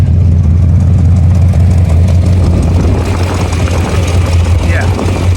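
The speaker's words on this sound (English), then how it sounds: "The idle changes when you change this screw." A 1984 Corvette engine idles steadily with a low, constant rumble during carburetor idle screw adjustment after rejetting, a loud close hum running throughout with light voice in the background.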